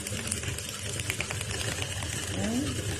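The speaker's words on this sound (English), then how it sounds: "You don't need to put any thread, just keep on running stitches." An unthreaded sewing machine runs practice stitches along guide lines, a steady mechanical whirring and rapid stitching patter that holds at a constant level through the short stretch.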